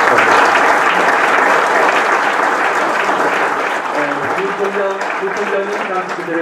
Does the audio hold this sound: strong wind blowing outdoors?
no